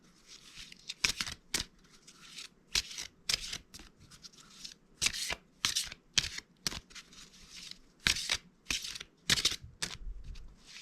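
Hands shuffle a celebrity spirit oracle card deck up close: repeated quick papery riffles and flicks in short bursts separated by brief pauses, with no voice.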